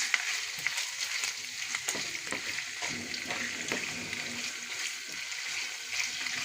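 Chicken browning in a hot pan, 250 grams, a continuous bright crackling sizzle with scattered pops and stirring scrapes, steady and fairly close, no talk.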